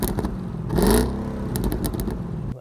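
An Audi A8 with a V8 engine revs once near the start, a brief rising surge over a low idle rumble, then settles back to a steady running hum.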